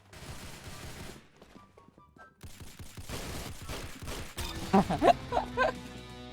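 Gunfire in the Roblox game Arsenal: a run of sharp, close shots and crashing impacts, thickest near the end, over a busy game background.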